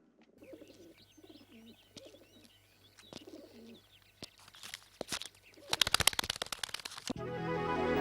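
Pigeon cooing softly in short repeated phrases near a steady hum, followed by shuffling and a dense burst of rustling, flapping sounds toward the end.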